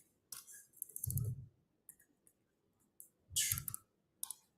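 Bursts of clicky typing on a broken computer keyboard with half its E key missing, quick clusters of key clacks and thumps separated by short quiet gaps, fairly close and alone.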